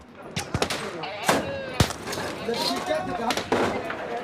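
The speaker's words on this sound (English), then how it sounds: "Plaster is torn from the walls as the bullets rip through it." Gunfire in a combat zone, sharp irregular shots and bursts at close range with bullets striking plaster walls, crackling impacts and debris between cracks, with voices in the background.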